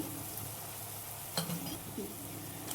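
Spice masala with ground cinnamon, clove and pepper roasts and fries in a pan, a faint soft sizzle with a couple of light scraping stirs and a small clink.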